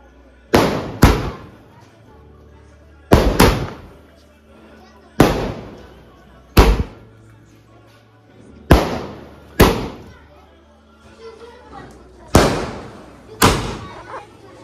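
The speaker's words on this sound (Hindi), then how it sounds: "बड़ा वाला बम चला" Diwali firecrackers bursting outdoors in a string of loud, sharp bangs, often in quick pairs, spaced every second or two, each with a short echoing tail and a few voices faintly between them.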